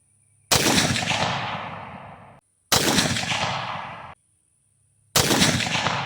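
Three loud, close rifle shots from a bolt-action rifle fired at a target, each a sharp crack with a long rolling echo that fades before the next, spaced a couple of seconds apart.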